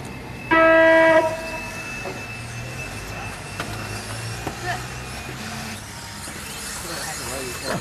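Loud electronic start tone, a steady harmonic beep lasting about a second, signals the launch of a 10-minute expert 13.5 RC buggy main event at a race track, with crowd and track noise continuing faintly afterward.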